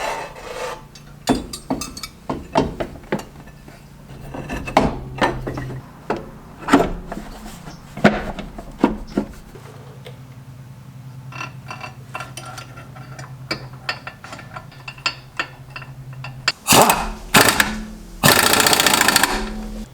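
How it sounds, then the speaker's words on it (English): Scraping, rasping metal-on-metal tool work while a machined clutch is fitted and tightened on a John Deere project machine, with uneven strokes, a steady grinding stretch in the middle and a burst of louder clanks at the end. "Clutch is on, tightened up."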